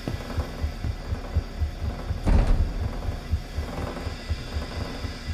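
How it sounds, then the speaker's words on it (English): Heavy, low thumping heartbeat in the horror video game Lazaret's cargo hold, pulsing in a steady double-beat rhythm over a dark droning hum, with one louder thud swelling midway. "Sounded like a heartbeat."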